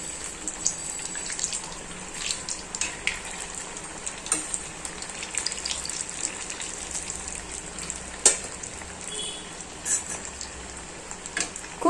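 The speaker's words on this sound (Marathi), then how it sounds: "मी तळताना याकरिता दाखवत आहे की चीज टाकलेला आहे आपण कशा प्रकारे तळायचं" Cheese balls deep-frying in hot oil over medium heat, giving a steady close sizzle and bubbling hiss with scattered small pops and crackles throughout, no talking.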